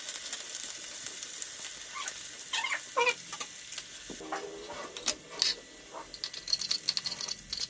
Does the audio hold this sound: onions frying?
yes